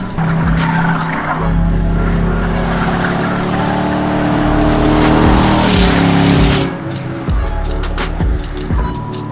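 Drift cars lap a track in practice, engines revving hard and tires squealing in long sustained slides, loud and fairly close, with the sound swelling and fading as they pass.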